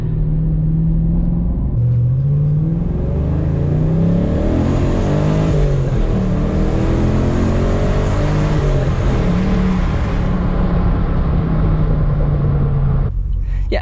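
A Camaro SS V8 with an aftermarket cold air intake rumbles loudly from inside the car while driving, its deep engine note rising and falling through several rev changes, steady and close throughout.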